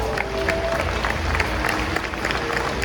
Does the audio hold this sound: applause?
yes